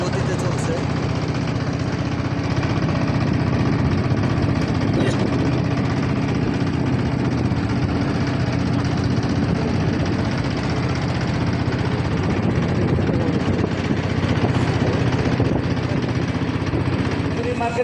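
A boat engine drones steadily and loudly throughout a river trip, a continuous mid-pitched motor hum with constant vibration and no pauses.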